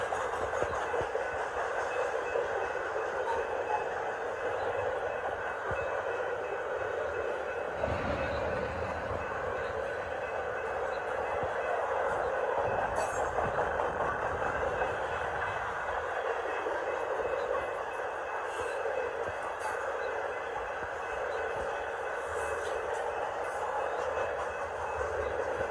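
A Norfolk Southern grain train rolls past with a continuous heavy rumble and rail clatter that holds steady and loud for the whole stretch, with no voices over it.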